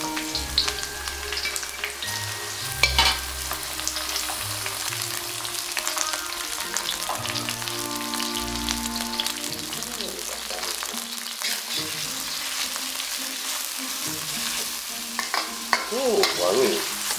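Duck meat and bitter melon stir-fry in a pan, giving a continuous close sizzle broken by scraping stirs and clatter, with faint voices in the background.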